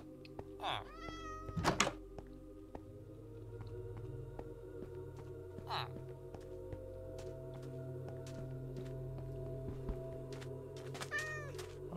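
Cats in the Minecraft video game meow several times, with two or three rising meows early and another near the end, over a steady low game hum with occasional soft thunks.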